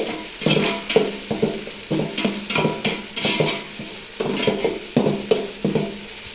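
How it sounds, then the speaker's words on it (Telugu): Mushroom biryani masala with turmeric being stirred in a pot, heard as a rhythmic series of close scraping and clinking strokes of a spoon against the pot over a low sizzle. "అడుగంటకుండా బాగా కలుపుకోవాలి"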